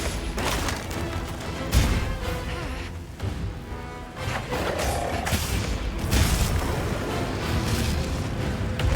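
A dense, booming explosion erupts during a Monster Hunter Wilds monster fight, amid continuous loud rumbling, crashes and clattering game effects that stay heavy and layered throughout with no voices.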